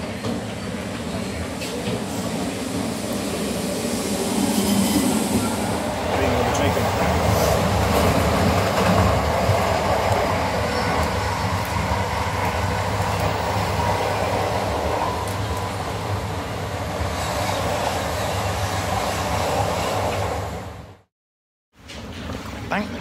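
A London Underground train pulls out of a station with a continuous rumbling roar and clattering wheels that build and hold loud and close for about twenty seconds, then drop out suddenly.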